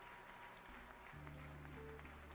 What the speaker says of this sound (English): listen to them clap